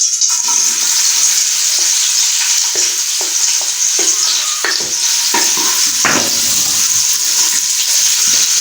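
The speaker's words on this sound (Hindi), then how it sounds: "प्याज को व्यूअर्स आप गोल्डन ब्राउन करना है हमने।" Onions frying in lightly heated cooking oil for degi-style aloo gosht: a loud, continuous sizzle close by, broken by repeated scraping stirs of a spoon through the pan, with no talking.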